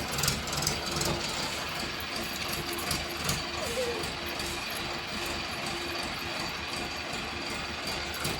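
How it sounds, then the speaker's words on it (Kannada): A tractor engine running at a steady idle, a continuous mechanical drone with a faint rhythmic rattle, moderately close and unchanging throughout, with no clear speech. "ಅವ್ರ ಮಾಮ ಟ್ರ್ಯಾಕ್ಟರ್ ತೊಗೊಂಬರತ್ತ ನೋಡಾತ."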